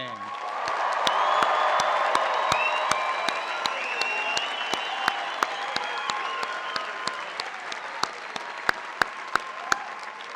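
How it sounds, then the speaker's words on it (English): A commencement crowd cheers and applauds for the graduating class of 2015, a broad roar of voices that thins into scattered sharp, individual claps toward the end. "please join me for one large cheer for the class of 2015"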